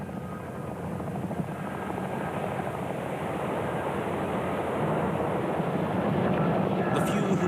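Chinook helicopters thunder over a desert, a dense, steady rotor roar that holds loud and close and grows slightly stronger throughout.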